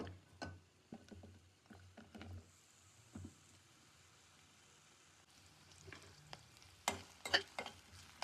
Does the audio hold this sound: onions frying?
yes